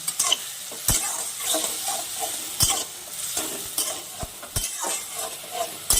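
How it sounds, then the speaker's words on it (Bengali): Tomato paste sizzles and fries in a pan while a utensil stirs and scrapes, with several sharp clinks against the pan over steady frying noise. "টমেটো বাটাটাকে হালকা ভেজে নেব, এটার কাঁচা গন্ধটাকে চলে যাবে"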